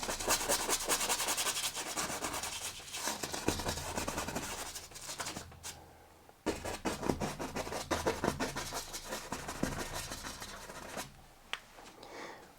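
A brush scrubs oil paint onto canvas for a mixed-media tree landscape, producing close, rapid rhythmic rubbing strokes in bursts, pausing briefly midway and near the end.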